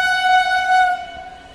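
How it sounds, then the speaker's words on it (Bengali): A Sealdah–Gede suburban local train pulling out of Kankinara station gives a loud, sustained two-tone horn blast that holds steady, then fades as the train moves away. "31917 up Sealdah Gede local Kakinara rail station platform number 1 ছেড়ে পরবর্তী রেল স্টেশন নৈহাটির দিকে যাচ্ছে"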